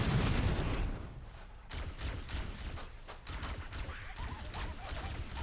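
Weapon fire in the video game Halo from a rocket launcher, a loud blast at the start followed by a series of thumping shots and booms at irregular intervals, with no talk over them.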